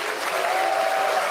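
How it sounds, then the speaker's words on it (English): Crowd applause at a Samsung Galaxy Unpacked 2024 launch event, a steady wash of clapping from a large audience, heard from a distance with a faint tone running underneath. "Cue the applause."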